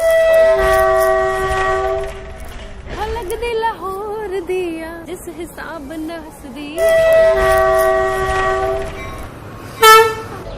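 A Samjhauta Express train on Pakistan Railway near Lahore sounds long, loud, steady horn blasts at the start and again later. Someone talks in between the blasts.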